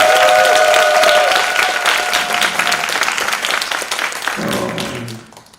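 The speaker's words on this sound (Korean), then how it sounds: "다시 한번 감사의 박수 한번" An audience at a lecture or award event gives a warm round of applause, loud and dense at first. It stays sustained, then tapers off and fades out over the final second.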